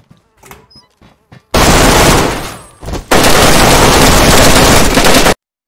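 Gunfire in the video game DayZ: a few faint scattered shots, then two long, very loud, dense bursts of close rapid fire that stop abruptly.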